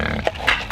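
Pigs on a mountain homestead give a few short, close grunts and squeals at feeding time, loud and clear with no one talking.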